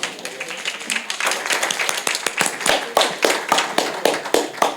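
A church congregation claps in steady, brisk applause, with many hands striking together in a dense, even rhythm at moderate level.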